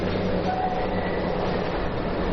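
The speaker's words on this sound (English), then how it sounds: "the best way to view them is via the spectacular Alishan Forest Railway, the jewel of Taiwan's narrow gauge rail network" Alishan Forest Railway narrow gauge train in Taiwan's mountains, a continuous rumbling roll of wheels on track with a steady mechanical hum, heard up close and alone.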